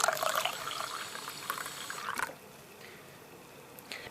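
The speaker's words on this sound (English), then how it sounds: "add some water to it." Water poured into a container of tomato seeds and pulp, a steady splashing trickle for about two seconds that then stops, leaving a quiet room with a faint tap near the end.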